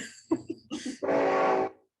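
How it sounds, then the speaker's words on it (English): A train approaches a community garden plot and sounds a sustained horn blast of under a second. A few short knocking sounds come just before it. "The train's coming."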